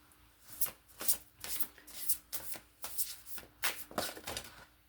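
A deck of tarot cards is shuffled repeatedly, each riffle a quick papery flutter in a steady rhythm of about ten bursts, close by with no talk.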